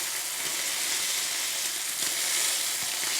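Flank steak sears in a hot pan with a steady, dense sizzle that runs unbroken and fairly close, with no voices over it.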